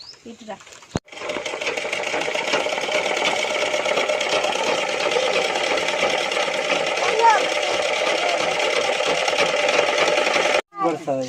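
An electric sewing machine runs steadily and loudly for about ten seconds, starting and stopping abruptly, at a tailoring training setup for sewing machines in Hyderabad.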